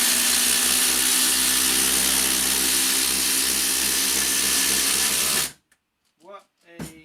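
Two 18-volt impact drivers, a Makita and a Milwaukee M18, hammer 150 mm batten screws into timber together, a loud continuous rattling whir for about five seconds that stops abruptly, followed by brief faint voices.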